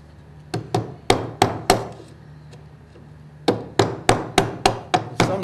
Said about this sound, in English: With some timbers it's quite difficult to get a clean cut because if it's soft it will fold up in front of the chisel